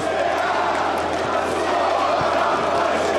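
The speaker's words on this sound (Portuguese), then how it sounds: "eu amo a torcida do Botafogo nesse momento" Botafogo supporters massed in a stadium, a dense, steady roar of crowd chanting that holds at an even loudness throughout, with no single voice standing out.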